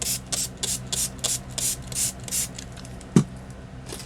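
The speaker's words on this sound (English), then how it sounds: "And spray again." A spray bottle hisses in a rapid series of about ten short, even bursts over a gel plate with acrylic paints, close by, with one sharp knock near the end.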